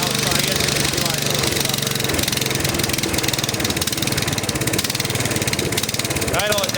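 Free Murray riding lawn mower, cold-natured and temperamental, its small engine running continuously in a rough, fast, chattering drone at close range, with a faint voice alongside.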